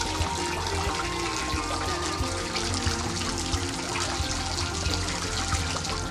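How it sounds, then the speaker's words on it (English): Steady trickle of water in a California mission fountain at Mission San Jose in Fremont, once used for washing clothes, running continuously and fairly close with no voices over it. "This fountain was used to wash the friars and a lone Indian's clothes."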